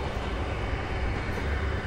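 A fast express train rushes by in Train Simulator's Northeast Corridor route, a steady loud rumbling roar of wheels and wind that holds throughout a short stretch with no talking.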